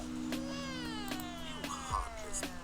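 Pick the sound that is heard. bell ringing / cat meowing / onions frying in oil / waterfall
cat meowing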